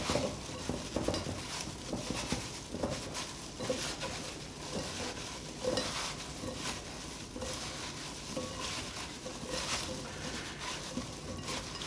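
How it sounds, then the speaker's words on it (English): Sliced apples tossed with flour in a mixing bowl give a steady soft patter and rustle with light clinks against the bowl, continuous and close, fairly quiet. "now we're gonna toss our apples in it"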